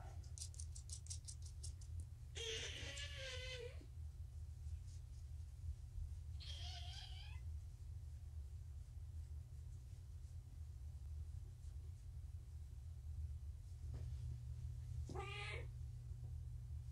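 Young kittens give three separate meows, one after another with long pauses between them, over a constant low hum in a quiet indoor room.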